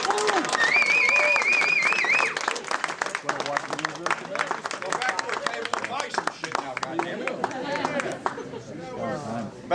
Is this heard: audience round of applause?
yes